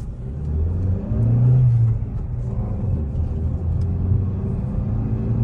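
A Maruti Grand Vitara car accelerates along a straight road, its engine a low, steady rumble heard from inside the cabin, swelling briefly in a rev before settling into a constant drone.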